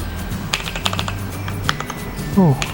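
Keys clack in a few scattered presses on an Armageddon MKA 5R RGB mechanical keyboard, close and crisp, with a person speaking softly underneath.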